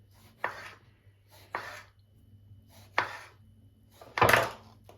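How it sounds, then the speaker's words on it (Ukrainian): A knife cuts a tomato into rings on a board, with four distinct slicing strokes landing at uneven intervals, each a short crisp chop close by. "Тепер помідор. Його ми також нарізаємо кільцями."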